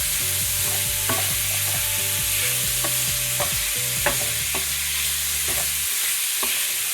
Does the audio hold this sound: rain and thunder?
no